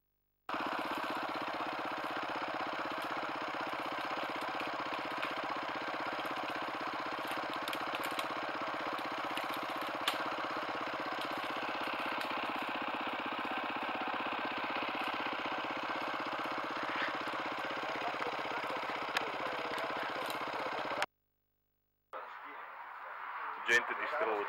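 A dirt bike engine idles steadily on an enduro ride for about twenty seconds, a constant mid-pitched drone that cuts off abruptly before a brief burst of other noise.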